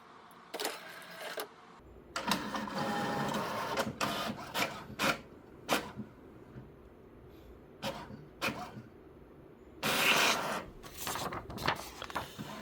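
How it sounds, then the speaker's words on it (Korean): HP OfficeJet Pro 9010 inkjet printer printing a print quality page after a printhead replacement, giving repeated mechanical whirring passes and clunks of the carriage and paper feed, close and moderately loud with short pauses between. "인쇄 품질 페이지 출력해 보겠습니다"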